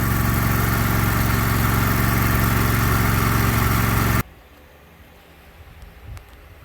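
A John Deere L120 lawn tractor engine runs loud and steady at idle for about four seconds, then cuts off abruptly, leaving faint background noise.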